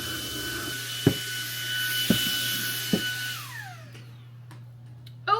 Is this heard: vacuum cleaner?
yes